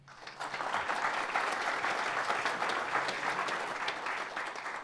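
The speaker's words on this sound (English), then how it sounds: "a big round of applause for First Bank" Crowd applause at a small-business event honoring a sponsoring bank, steady clapping from a modest audience that swells quickly, holds for several seconds, then tapers off.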